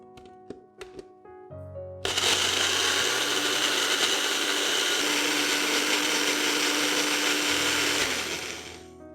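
After a few light taps, a kitchen blender roars loudly and continuously for about six seconds, grinding belachan, sugar and oil for a spicy tamarind fish dish, then winds down.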